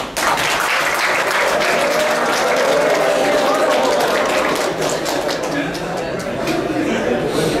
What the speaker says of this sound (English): Give a big clap for madam.